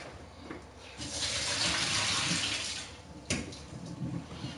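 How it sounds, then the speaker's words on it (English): Water from a pot of boiled potatoes pours out in a loud, steady rush into a sink for about two seconds, then eases off before a brief splash and scattered trickling. "I'm gonna drain this water off"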